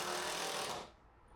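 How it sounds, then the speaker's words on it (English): A power screwdriver drives screws into the top sections of a build, a loud continuous buzzing whir that runs steadily for most of a second, then cuts off and leaves a quiet tail. "I'm just going across the top now, just simply screwing the top sections in."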